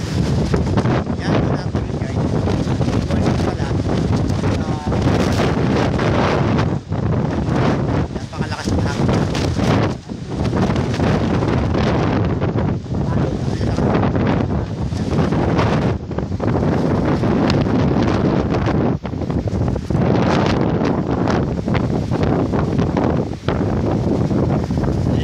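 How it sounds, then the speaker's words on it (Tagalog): Strong gale-force wind on the seashore at Aparri, a loud, continuous roar buffeting the microphone, with gusty surges and a rumble like surf beneath it, and no voices. "At yan ang tunog ng lakas ng hangin."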